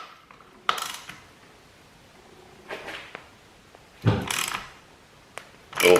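An Allen key works a bar end bolt loose on a 2022 KLR 650 motorcycle, giving a few separate metallic ratcheting clicks and scrapes, close up with quiet gaps between.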